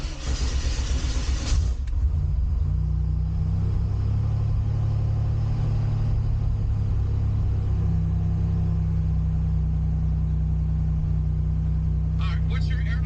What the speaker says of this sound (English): So you can go ahead and start the car.